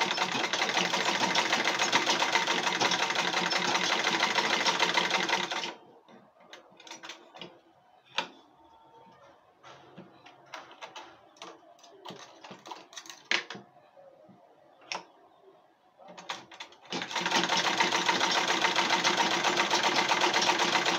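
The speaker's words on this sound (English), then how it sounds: "So I'll start from somewhere here to stitch again." A sewing machine stitches an Ankara fabric school bag in a steady, loud whirring run. A quieter stretch of small clicks and handling taps follows, and then the machine whirs again.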